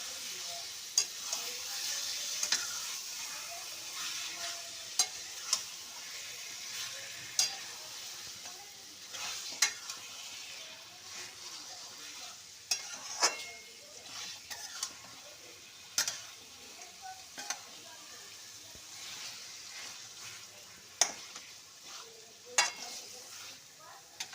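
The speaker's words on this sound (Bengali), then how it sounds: "এবার ভালো করে মিশিয়ে নেব মশলার সাথে।" Marinated chicken frying with spices for chicken kosha, a steady sizzle throughout with a spoon or spatula scraping and clinking against the pan in irregular strokes every second or two.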